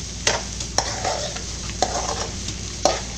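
Beef ularthu being stir-fried in a pan until browned: a continuous close sizzle broken by four or five sharp clinks and scrapes of a spoon against the pan, with no talking.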